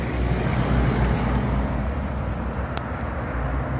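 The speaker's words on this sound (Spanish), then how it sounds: "Pues obviamente por allá pasan los carros, miren." Cars pass along a road below a rocky hillside, a steady low rumble of traffic that swells and fades at a moderate distance, with no talking.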